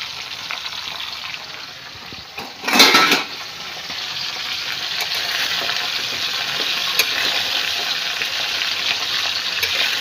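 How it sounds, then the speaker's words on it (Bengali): Fish and malabar spinach frying together in a pan make a continuous close sizzle. A brief louder hiss and clatter comes early as a piece is turned, then the steady frying sound resumes. "এই মাছটা এক পিঠ ভাজা হয়েছে, আর এক পিঠ উল্টে দিলাম।"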